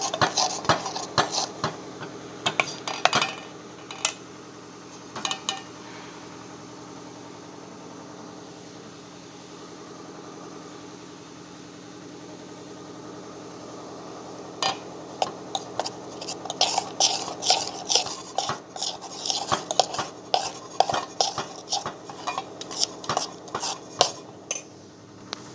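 Rava dhokla batter is stirred in one direction in a bowl, a spoon scraping and clinking against the sides in quick bursts with a quiet lull in the middle, close and fairly faint.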